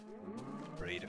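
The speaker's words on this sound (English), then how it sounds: "Apologies for the annoying cow noises." A cow mooing in Minecraft, one short low moo that rises in pitch, under quiet background sound with a voice faintly present.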